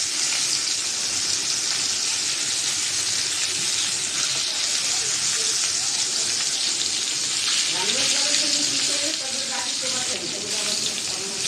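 Baim and koi fish frying together in hot oil in a wok give a steady, close, hissing sizzle throughout, with a voice talking over it in the later part.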